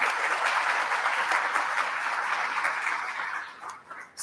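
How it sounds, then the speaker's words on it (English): A forum audience gives a big round of applause, dense and fairly loud at first, then thinning out toward the end as the clapping tapers off. "Big round of applause."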